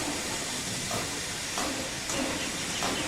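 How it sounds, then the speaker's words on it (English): A steam locomotive being steamed up in its shed by a firelighter gives off a steady, loud broadband hiss that continues unbroken throughout. "Duck woke next morning as the firelighter was steaming him up."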